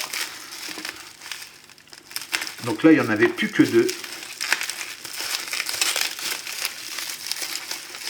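Plastic packaging crinkles and crackles in a brief burst close by, while a person speaks over it.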